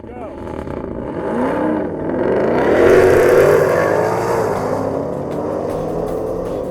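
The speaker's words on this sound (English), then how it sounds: "We took on the oh-so-difficult task of heating up the tires." A muscle car with around 800 horsepower revs its engine while heating its tires, the pitch climbing in a swelling roar that peaks and then eases back to a lower drone.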